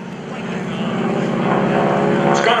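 Propeller-driven aerobatic airplane at the Greenwood Lake Airshow, a loud sustained droning engine roar that builds slightly as it passes, with a commentator talking over it.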